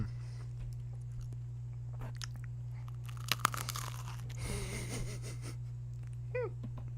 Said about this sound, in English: I'll give you guys some ASMR crunch here.